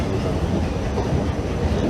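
A train in Sweden before a trip back to Copenhagen, a steady low rumble of rolling stock heard close by with no clear clacks or voices.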